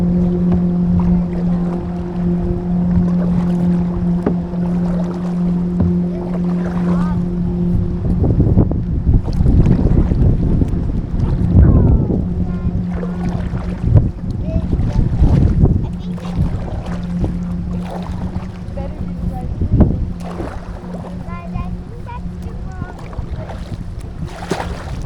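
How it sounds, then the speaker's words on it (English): Wind buffets the microphone while river waves slap and splash against a kayak, producing a steady rushing noise broken by irregular watery thumps from close by. "Oh shoot, we got some waves, guys."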